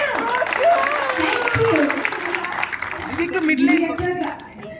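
Audience applause at an award ceremony honoring the best female villain, a dense continuous clapping that holds for nearly five seconds while people talk over it.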